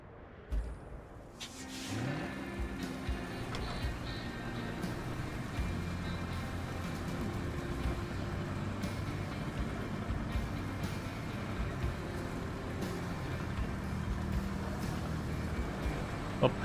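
A dump truck engine drones at low revs in RoadCraft, a quiet, steady rumble with shifting pitch that runs throughout.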